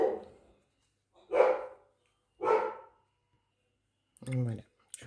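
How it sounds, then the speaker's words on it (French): Three or four sharp barks from dogs in a quiet indoor room, spaced about a second apart and fairly close, with brief silences between them. "Excusez les chiens."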